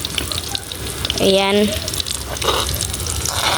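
Ginisang monggo cooking in a pan, a continuous sizzling hiss in the background while someone speaks briefly over it.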